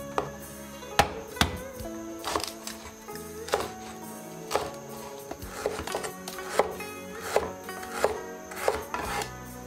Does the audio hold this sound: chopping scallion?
yes